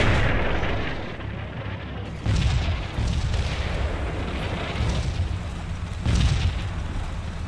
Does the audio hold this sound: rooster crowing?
no